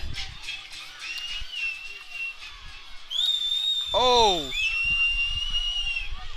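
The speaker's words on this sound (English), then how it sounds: "Some whistles from approving dads." Several sharp, high whistles ring out from spectators at a high school homecoming football game, one long sliding whistle near the middle, over a steady murmur of chatter and a brief spoken exclamation.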